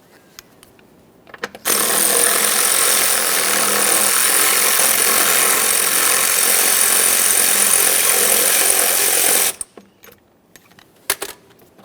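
A power ratchet tool zips out the 10mm mounting bolt on the coolant reservoir of a 2011-2020 Toyota Sienna, a loud continuous buzzing whir lasting about eight seconds with a few small clicks before and after.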